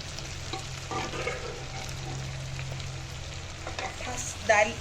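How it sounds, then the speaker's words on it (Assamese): Black gram lentils fry with chicken in a hot pan, a steady close sizzling with a brief clatter of stirring near the end. "দাইলখিনি ভালদৰে ভাজি ল'ম মাংসখিনিৰ লগত"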